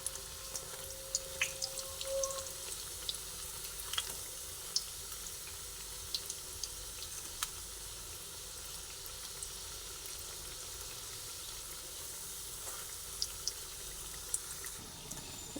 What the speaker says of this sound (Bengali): এগুলো ভাজা হয়ে গেছে সেই জন্য আমি এগুলোকে এক এক করে তেল ঝরিয়ে ঝরিয়ে তুলে ফেলছি